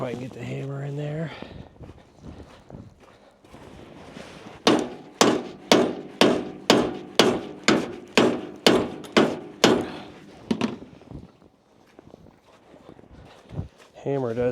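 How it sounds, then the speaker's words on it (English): Hammer blows on a bent metal trailer tail light housing damaged by rocks, about a dozen sharp, evenly spaced strikes ringing out loud and close, with a person talking briefly before the hammering starts. "I don't know if I can get the hammer in there."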